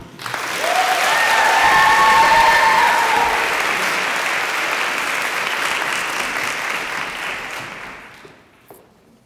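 A chapel audience at St. Mary's in Memphis gives a loud, sustained round of applause welcoming an alumna speaker, rising quickly, holding steady for several seconds, then tapering off near the end.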